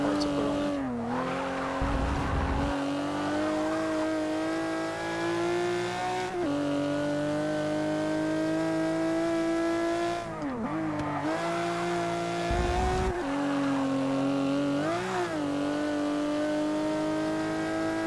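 A 1963 Ferrari 250LM races along in a driving game, its engine a loud steady drone that rises and falls as it revs, briefly dipping between gears, with occasional rough bursts as it runs over grass.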